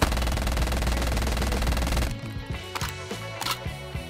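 Automatic gunfire in Call of Duty Mobile with heavy gun kick: a loud, continuous burst of rapid shots that cuts off abruptly, followed by a few scattered clicks and thuds.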